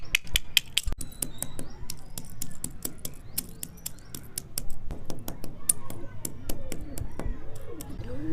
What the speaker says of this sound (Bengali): তো চলো আমরা ঝিনুকগুলো আগে ভালো করে গুঁড়ো করে নিই